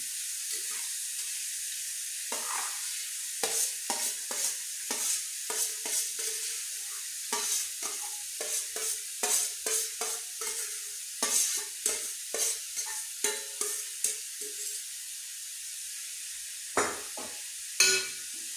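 Onion, coconut and green chili stirred in a hot frying pan, with a steady sizzle under repeated scraping strokes of the spoon, close and fairly loud, brief pauses between bursts.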